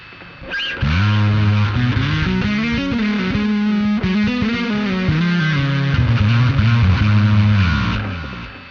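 A distorted bass guitar through a Fractal Audio FM9 plays a line of held notes with mono delay repeats trailing behind, loud and continuous, then fading at the end.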